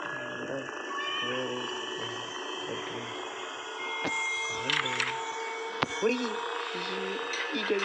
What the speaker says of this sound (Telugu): అరే పిల్లి ఆత్మారావు.